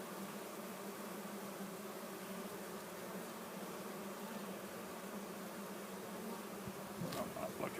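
Honey bees swarm over the frames of an opened hive, giving a dense, steady buzzing drone that holds evenly and close throughout, with a slight swell near the end.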